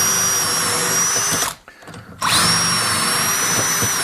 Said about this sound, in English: We'll drill them first.